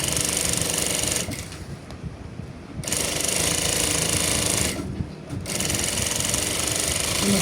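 Sewing machine stitching a seam and backstitching at the start: a loud, close, rapid mechanical hum of the needle running in bursts, pausing briefly twice before resuming at full speed.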